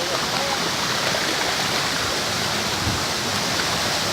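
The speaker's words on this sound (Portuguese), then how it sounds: "É uma cachoeira em forma de C." Cachoeira do Robertão, a C-shaped waterfall near Barra Mansa, Rio de Janeiro, roars as a steady, dense, loud broadband rush of falling water, close and continuous with no voices.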